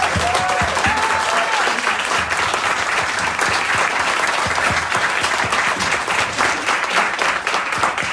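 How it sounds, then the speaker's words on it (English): An audience at a book launch breaks into loud, continuous applause, with dense overlapping claps holding at full strength throughout, and a brief vocal sound early on. "Give your warmest and loudest applause to Esme and Cassandra."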